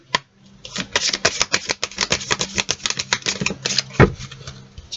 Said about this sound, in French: Alors, on va tirer une carte du tarot.